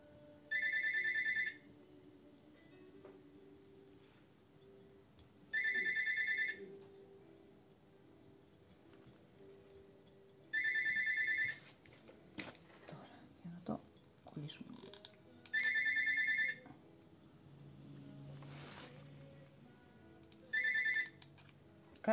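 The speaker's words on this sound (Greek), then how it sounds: "Και επιμένει να χτυπάει το τηλέφωνο." A mobile phone rings persistently in five bursts of bright electronic ringing, each about a second long and spaced several seconds apart, with quiet handling noises and soft talk between rings during a live metal leaf aging session.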